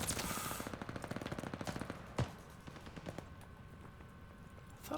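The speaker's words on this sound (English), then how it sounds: "Time to switch to the submachine gun." Submachine gun fire in Call of Duty: Vanguard multiplayer, a rapid burst of automatic shots for about two seconds, then a single sharp report and scattered faint distant gunfire, fairly quiet overall.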